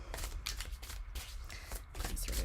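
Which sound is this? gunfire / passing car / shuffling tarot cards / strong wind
shuffling tarot cards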